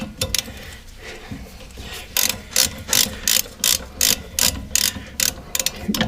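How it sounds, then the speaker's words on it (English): A ratchet wrench loosens a suspension bolt on a Lincoln or Ford front suspension. After a quieter start, about nine sharp, close bursts of clicking follow in an even rhythm. "Just trying to get the bolt out."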